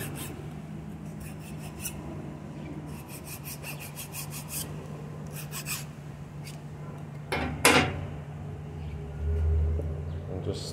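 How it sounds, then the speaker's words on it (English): A metal file scrapes dried sticker glue off a car, giving soft rasping strokes in short bursts at close range over a low steady hum. "If you have a file like this, you could sharpen this a little bit."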